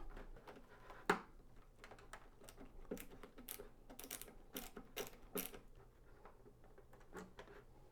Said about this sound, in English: locate 6 of these little tiny Torx screws, and I'm gonna go ahead and remove them